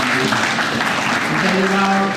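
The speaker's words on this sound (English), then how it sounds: "Just want to start clapping" A lecture audience clapping together, a dense continuous patter of many hands with voices murmuring underneath.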